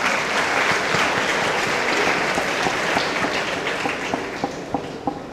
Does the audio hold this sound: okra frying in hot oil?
no